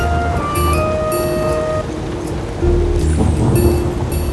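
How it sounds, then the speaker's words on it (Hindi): Steady rain pours down, a dense continuous hiss of drops on surfaces, loud and close, with no one speaking. "पहली बारिश में छुपकर नहीं बैठते"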